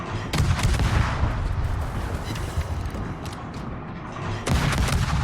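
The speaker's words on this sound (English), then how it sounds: "I'm going to use our incredible World War I guns." World War I naval guns booming in a warship video game, heavy continuous salvos and rumbling blasts, loud and near, with a fresh burst at the end.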